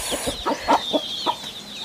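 A rooster clucking nearby, a quick series of six or so short throaty clucks, fairly loud against a faint background.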